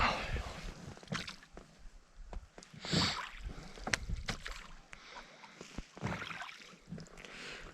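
Oars working a small boat on a lake in late autumn, with irregular splashes and wooden creaks at close range over quiet water and light wind, no talking.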